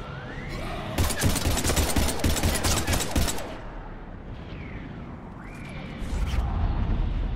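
Heavy gunfire in a Mass Effect 3 battle on Earth rattles out as a dense, loud stream of rapid automatic shots lasting a few seconds, then thins into scattered combat noise with a booming impact near the end.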